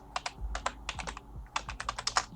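Keys clatter on a computer keyboard in a streamer's setup, caught by a mic above the monitors: short uneven bursts of crisp clicks with small gaps, fairly close and clear, and no voices.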